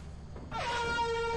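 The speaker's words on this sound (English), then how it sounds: "You blew the air horn." A loud air horn in the video game Lethal Company blares suddenly after a brief pause and holds a steady, brassy tone to the end.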